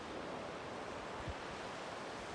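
Steady broadband ocean surf washing against a rocky shore below trees at Church Bay, Bermuda, a continuous wash of waves with no talking.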